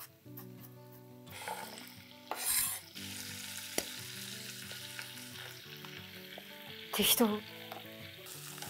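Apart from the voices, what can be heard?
stir-frying ingredients for paella in a pan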